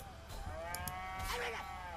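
A cow in the video game South Park: The Stick of Truth gives a loud, drawn-out moo when struck, the low bellow rising and falling across about two seconds with brief clatter from the game.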